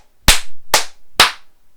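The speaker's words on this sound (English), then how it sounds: "it's two hand clapping." Three sharp, loud hand claps ring out one by one at an even pace, each a crisp smack with a short decay and silence between.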